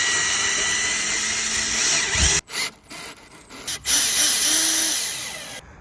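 Power drill driving screws into a metal door strike, a loud steady whir that halts abruptly, then short bursts and a ratcheting stutter before a second sustained run that fades out; no voices.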